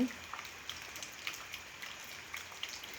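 Rain falls steadily in a soft, continuous patter, with scattered slightly louder drops heard close by, fairly faint overall and with no talking.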